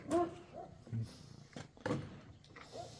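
Several short dog barks and whimpers from village dogs in snowy, rainy countryside, at irregular intervals, fairly faint and not too close, with quiet gaps between them.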